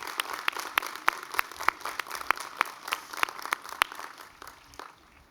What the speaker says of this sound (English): Would you just give them a round of applause, graduates, for them?